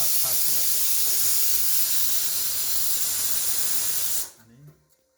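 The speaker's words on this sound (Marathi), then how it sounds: "आता ही आपल्या कुकरची 4थी शिट्टी झालेली आहे" Pressure cooker venting steam during a Marathi chicken curry recipe: a loud, steady high hiss lasting about four seconds, then cutting off abruptly into quiet kitchen sounds.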